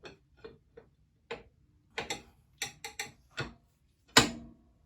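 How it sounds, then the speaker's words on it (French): Wrench ratcheting a nut loose on a Ducati motorcycle starter, a series of sharp separate metallic clicks at an uneven pace, close and alone, ending in one louder snap. "Avec la clé qui va bien et la clé qui va bien, on va enlever l'écrou qui va mal"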